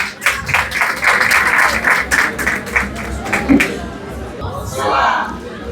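An audience at a speech event in Haiti applauds for Ariana, bursts of clapping mixed with crowd chatter and speech for several seconds, fading out as talk continues.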